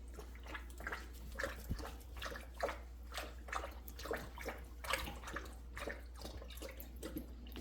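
A dog laps water from its bowl indoors, a quiet run of rhythmic wet slurps repeating steadily over a low background hum.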